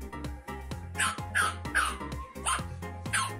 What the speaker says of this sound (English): Bark all day, puppy.